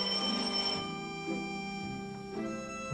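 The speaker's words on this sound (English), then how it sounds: "Your phone's ringing." A telephone rings with a steady, bright electronic trill that repeats continuously and fairly close, heard alone with no talking.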